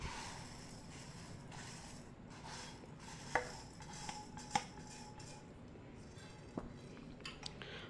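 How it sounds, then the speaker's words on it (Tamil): Hand-pounded rice and moong dal being mixed together in a pot or bowl, producing soft scraping and rustling with a few sharp clinks of a utensil against the container, fairly quiet and close, no talking. "கைக்குத்தல் அரிசியும் அந்த பாசிப்பருப்பும் எல்லாம் ஒன்றா மிக்ஸ் பண்ணிக்கிறேன்"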